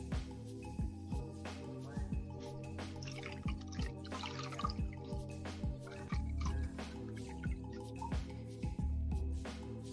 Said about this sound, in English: Time out, I gotta wash my face off.